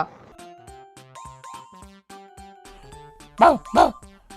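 A voice imitates a dog with a broken leg whimpering and crying loudly in a Hindi puppet story, with two strong yelping cries near the end following softer whines amid background music.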